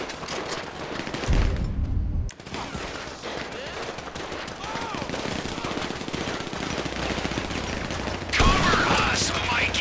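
GTA 5 story-mode shootout with sustained automatic gunfire rattling through a dense, loud firefight, and a few voices calling out over the shots.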